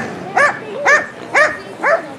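Four evenly spaced barks from a dog at a roller-skating or skating race, each a short harmonic yelp, moderately close and loud against a quiet background.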